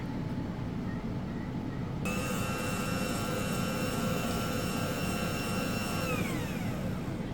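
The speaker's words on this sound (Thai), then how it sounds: "แล้วหลังจากนั้นเราก็จะเปิดเครื่องผสมก่อนเลยค่ะ" A mixing machine whirs steadily while blending homemade liquid laundry detergent, its motor switching on abruptly and holding a constant droning hum with a whine that slowly falls away near the end.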